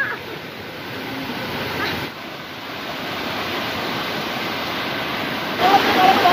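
Water rushes steadily at Parikkad waterfalls near Vengara, a continuous broadband roar close by that swells slightly toward the end, with no talking.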